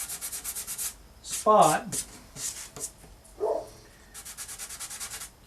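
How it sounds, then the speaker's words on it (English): Sandpaper rasps against wood in steady back-and-forth strokes, with a brief spoken word and a short murmur between bursts. "I'm going to start with a little bit of sanding"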